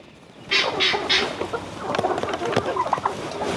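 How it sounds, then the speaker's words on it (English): Australorp chickens cluck in short bursts nearby, with a few rustles and soft scratching noises around them. "So these are my favourite chickens. These ones are Australorps."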